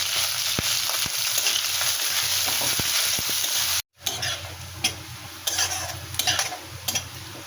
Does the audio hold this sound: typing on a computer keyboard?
no